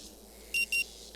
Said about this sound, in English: The frenetic sound of the alarm nudges you back to the Still present.